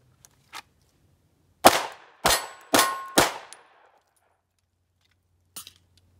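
Handgun magazines from a Glock 43X or Sig Sauer P365 dropping out on release, four sharp metallic clangs in quick succession with short ringing tails, plus faint clicks before and after, close and without talk.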